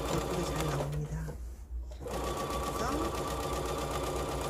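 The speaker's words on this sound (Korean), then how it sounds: "워킹풋을 장착을 하시고 바늘 땀을 좀 널찍널찍하게 하는 것이 더" Sewing machine fitted with a walking foot quilting a single blanket, running steadily and loud with a brief pause in the middle before stitching resumes.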